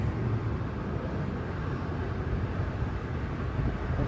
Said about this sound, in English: it's a little windy out here, so it's making it kind of difficult to cook evenly